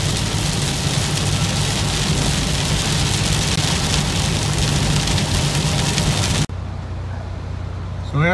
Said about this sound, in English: If this rain hits me, it'll be the first rain I've seen in about a week and a half